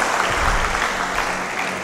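An audience at a guidance camp lecture breaks into brief, dense applause, many hands clapping together close by for about two seconds.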